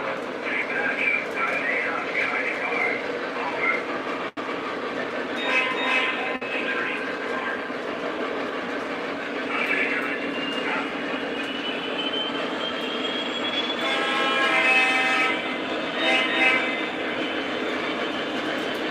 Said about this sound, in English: And then now the Conrail can pass.